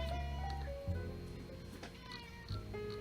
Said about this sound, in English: Can we do something about that cat?